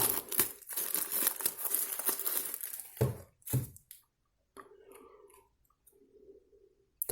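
Plastic wrapping around wireless earbuds crinkles and rustles up close for a few seconds, then a couple of sharp crackles before it trails off into near quiet.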